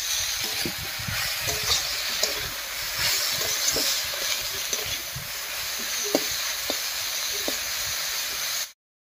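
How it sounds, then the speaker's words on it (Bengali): Radish greens fry in a pan with salt and turmeric, giving a steady close sizzle broken by occasional light clicks and scrapes of stirring. "এই অবস্থায় শাকটা একটু ভাজা ভাজা মতো করে নেব"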